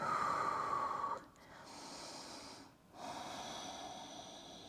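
Slow, deep breaths during a forearm yoga pose, a long strong exhale followed by softer breaths with brief pauses, close and quiet with no talking.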